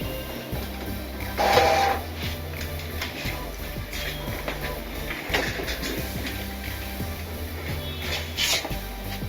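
A four-colour printer running a PVC card job, its mechanism whirring and chugging steadily with rhythmic feed clicks and a brief louder rush of motor noise early on, close and continuous throughout.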